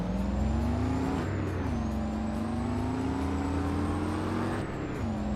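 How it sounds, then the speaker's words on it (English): A truck engine hauls a load to the mill on a winter farm run, a loud steady diesel drone with a rising and falling tone held close throughout. "Love the sound of this truck."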